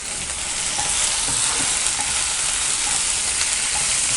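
Tomato, whole mint leaves and coriander sautéing in a pan for paneer biryani, giving a steady, dense sizzle and frying hiss close by with faint stirring, no voices.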